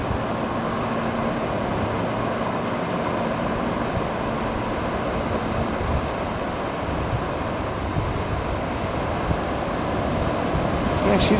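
Ocean surf breaks on a distant reef off a Costa Rica shore at low tide, a steady loud roar of waves mixed with wind buffeting the microphone throughout.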